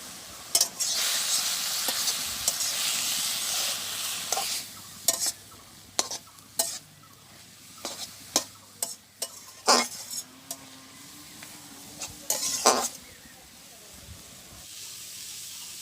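Bottle gourd greens stir-fried with chillies and turmeric, with intermittent sharp spatula scrapes and clatters over a faint, steady sizzle, and a voice speaking briefly in between.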